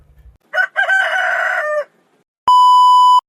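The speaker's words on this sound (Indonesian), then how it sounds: "Nah, jadi paham kan kenapa ayam berkokok?" A rooster crows once, loud and close, its call rising and sustained for about a second and a half, then cut off; a steady electronic beep tone follows after a short silence.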